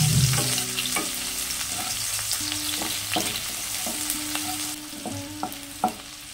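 Chopped onion fries in a pan after whole spices, giving a continuous close sizzle with repeated scraping strokes of a spatula against the pan; no talk.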